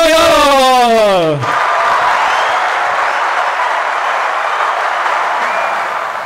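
A studio audience breaks into sustained applause and cheering, a broad crowd roar that follows a short descending tonal sweep and holds steady for several seconds.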